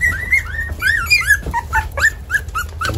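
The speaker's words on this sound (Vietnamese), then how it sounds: "nó nghe con nó kêu cái nó vô luôn rồi" Several young puppies, their eyes just opened, whimper and cry in high, wavering yelps, close by and continuous over a low background hum.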